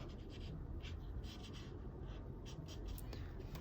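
Marker colouring on paper, shading a strip of a Fortnite-style graffiti drawing in colour 7220, heard as a steady close scratchy rubbing that continues throughout with no talk.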